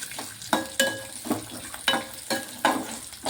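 Peanuts frying and being stirred in hot oil with green chillies and curry leaves for coconut chutney, crackling sizzle with repeated sharp scraping stirs close by, no talk.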